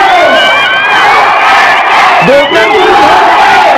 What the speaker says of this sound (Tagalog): Grabe yung sigawan dyan, ha?